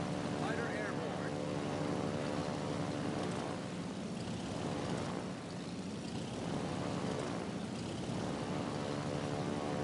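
A fighter plane's steady engine drone as it flies in a naval battle video game, a continuous propeller hum that swells and eases slightly over ten seconds.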